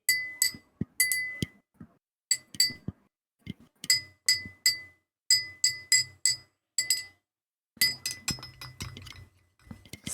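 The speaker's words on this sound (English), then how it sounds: "have a metal straw. Maybe should I clink it?" A metal straw taps and clinks against a drinking glass in a series of bright, close, ringing strikes, some in quick bursts with short pauses between, with no talking.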